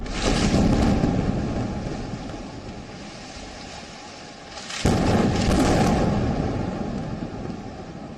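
A sustained rumbling roar, then a second sudden air-strike blast midway that swells into a loud, drawn-out rumble before easing off, as a tall building collapses.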